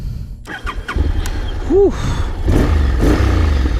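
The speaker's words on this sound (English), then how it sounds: "So press the ignition." A first-generation Honda X-ADV maxi scooter starting up, with a few clicks and a brief rising starter whine before the engine catches into a steady, close mid-pitched rumble. A voice lets out a short exclamation.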